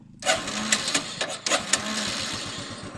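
A 12-volt water pump powered by a motorcycle battery starts up with a sudden mechanical whirr, followed by rapid rhythmic pulsing chatter and a few sharp clicks, close and moderately loud.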